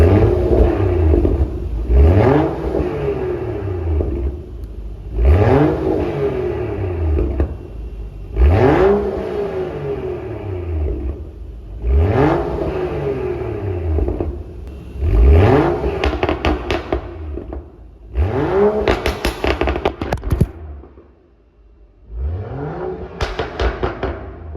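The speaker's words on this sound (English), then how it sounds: "I'm going to get you guys some sound clips of the stock exhaust" A BMW F30 with the N55 engine and stock exhaust revs repeatedly, about seven loud rising-and-falling blips with pauses between, first in comfort mode and then in sport mode with burbles and crackle on the overrun.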